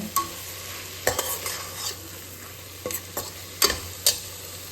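Coriander and mint leaves sauté in a pan, a low steady sizzle broken by several sharp scraping clacks of a spoon stirring against the metal, close and without speech.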